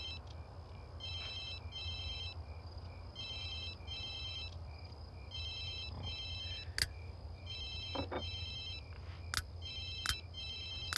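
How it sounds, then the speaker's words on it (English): A telephone ringtone repeats in regular paired electronic bursts, fairly clear above a steady low background hum, with a few sharp clicks in between and no talking. "answer your damn phone"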